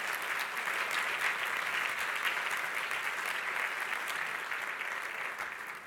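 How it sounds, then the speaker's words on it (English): An audience at a winter meeting's morning plenary session applauds in a dense, sustained wash of clapping that holds steady throughout before easing slightly at the end, heard from a distance with no talk over it. "I'd like you to applaud her right now."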